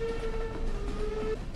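A train passes through the video game Stardew Valley, giving a steady tonal horn-like whistle over a low rumble that sounds alone for just over a second before cutting off.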